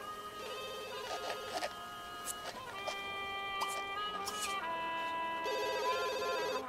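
A telephone rings in The Sims 2, a bright electronic trill that repeats in short bursts over quiet game music and soft clicks, with no talk over it.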